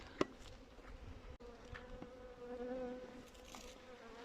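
Honey bees crawl and hum around a beekeeper's face during winter sugar feeding at the hives, a close, continuous buzzing with faint clicks and rustles.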